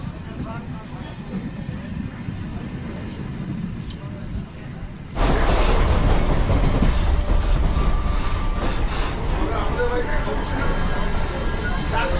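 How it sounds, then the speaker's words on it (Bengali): Commuter train heading toward Sealdah station in the early morning, rumbling along the rails, first muffled and steady, then suddenly louder and harsher with rhythmic clickety-clack and clattering wheels, as if a door or window opened. "দিনের সেকেন্ড ট্রেন ধরে আমরা সোজা রওনা দিলাম শিয়ালদা স্টেশনের দিকে"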